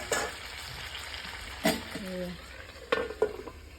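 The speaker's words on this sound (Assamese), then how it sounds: "মাজে মাজে মই লৰাই দিছোঁ আৰু মাংসখিনি।" Pork pieces cook in a pan, with a soft steady sizzle and a few scattered utensil scrapes and clinks as the meat is stirred now and then; no talking.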